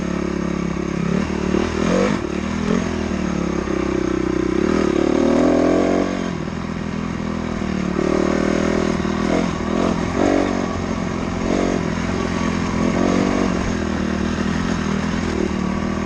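A dirt bike rides a trail with a steady, close engine drone that rises and falls as the throttle changes, along with rattling and scraping from the rough ground, and no one talks.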